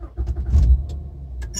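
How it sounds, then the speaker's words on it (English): A 2012 Acura car engine cranks and catches after a battery replacement, a brief starter whir swelling into a low idle rumble, with a few light clicks and jangles nearby. "So I'm going to turn the car on."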